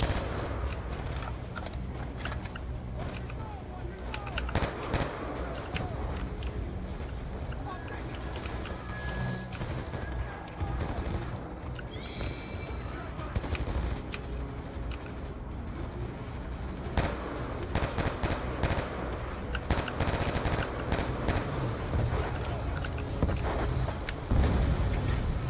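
Heavy gunfire pours onto a vehicle in Call of Duty Black Ops 2, with sharp bursts of automatic fire and booming explosions layered over a constant battle din, and voices cutting in now and then.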